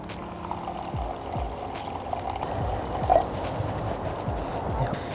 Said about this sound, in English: Here's the shoyu dashi. I'm gonna add it to the rice.